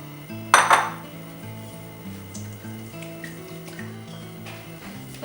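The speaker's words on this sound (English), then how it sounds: "So with that, I'll get to mixing." Mac and cheese ingredients are stirred in a bowl, with a sharp clatter of utensil on dish near the start, then soft scraping and clinks repeating close by while low tones hum underneath.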